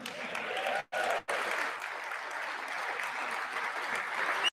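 Sustained applause from a large crowd, dense and steady throughout, with two brief drop-outs near the start before it resumes at full strength.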